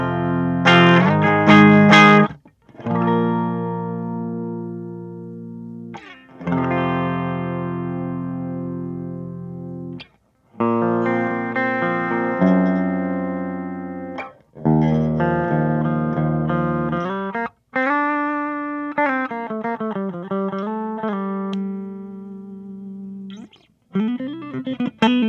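Electric guitar through the clean channel of a Joyo Preamp House pedal, ringing chords and short single-note phrases with sustained decays and slight reverb, played close and alone with brief pauses between phrases.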